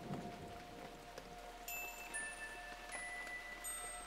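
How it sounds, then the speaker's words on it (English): Rain falls steadily in a tropical rainforest, a soft, faint patter of drops under a quiet background, with thin tonal calls of insects or frogs rising through it. "Days and days of rain."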